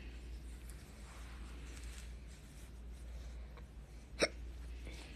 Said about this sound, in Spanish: Ya te dio hipo.